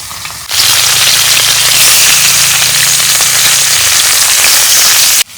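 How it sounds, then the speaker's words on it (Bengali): Spiced rohu fish drops into hot oil with a sudden loud burst of sizzling, then a dense, steady crackling hiss held close up for several seconds before it cuts off. "তেল গরম হচ্ছে, এখন মাছ ভাজুম।"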